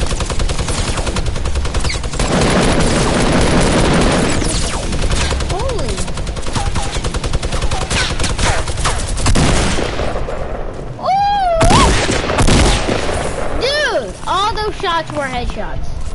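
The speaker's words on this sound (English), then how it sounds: "I like the effect when you hit people with a shotgun" Rapid shotgun and SMG gunfire from a Fortnite-style Season 5 battle royale game, dense repeated shots and impacts running nearly throughout under a player's talking.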